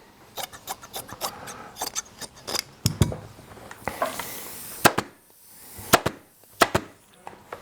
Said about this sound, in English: I'm going to trim this up.